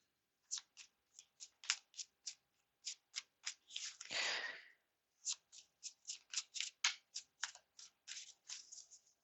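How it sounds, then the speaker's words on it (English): Tarot cards are shuffled repeatedly in quick, crisp riffles, with a short pause midway where a longer rustling sweep of cards is heard, close and clear. "I just keep shuffling and shuffling and shuffling"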